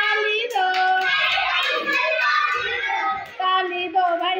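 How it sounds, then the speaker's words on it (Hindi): Children clap their hands along to a group chant at a school centre in Takha block, Etawah; the claps sit under sung, chanting young voices that run almost without a break. "ताली दो भाई ताली दो"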